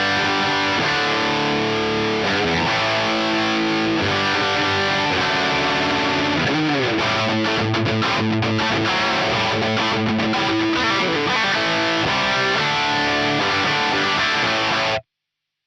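Heavily distorted electric guitar, a PRS Custom 24 with a Seymour Duncan JB bridge humbucker running through an Atomic Amplifire hot Brit amp model, plays loud, dense chords and riffs for about fifteen seconds and then stops abruptly.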